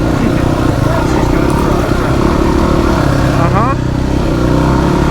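A motorcycle rides along a rough, little-used bridle track, its engine droning loud and steady with clattering over the ground and a brief rev change, while a voice talks over it.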